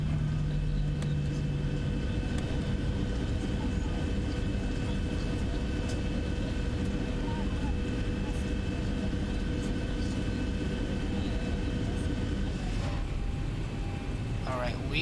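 A Zibo Boeing 737-800 rolls under power in the X-Plane 11 simulator, its engines giving a loud, continuous low drone and hum that holds steady throughout.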